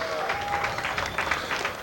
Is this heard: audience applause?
yes